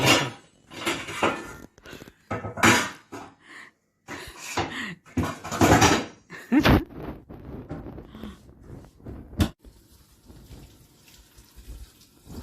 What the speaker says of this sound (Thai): แกล้างจานเลยลง